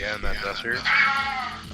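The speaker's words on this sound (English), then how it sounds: "That did sound like two cats." Two cats meowing from a soundboard during a tabletop role-playing game session, a pair of close, drawn-out meows one after another, with people talking over them.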